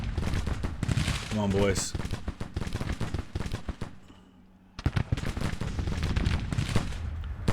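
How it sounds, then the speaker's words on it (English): Musket volleys crackle in the Grand Tactician: the Civil War game, dense overlapping bursts of gunfire that drop to a near-silent gap before the shooting resumes. A voice speaks briefly over the firing. "Looks like we're firing at will at the moment."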